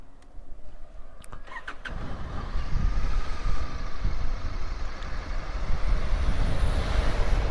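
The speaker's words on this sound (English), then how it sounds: "Nice big logging truck there." A big logging truck passes on a road near the Isle of Whithorn, its heavy engine and tyre roar swelling in after a few short clicks and holding loud and close through the rest.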